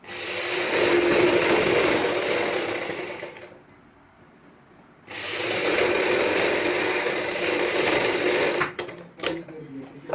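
A sewing machine stitches the side seam of a choli, running in a loud, steady whir, pausing briefly, then starting up again and ending with a few uneven clicks.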